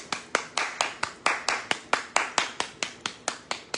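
Rhythmic clapping from an audience at a talk event, about eighteen even, sharp claps close by at a steady pace, with no other sound between them.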